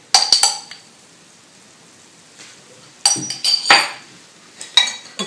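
A sugar and yeast mixture for traditional Czech kolache being stirred: a spoon clinks and scrapes against a bowl in short, bright bursts separated by quiet pauses, up close.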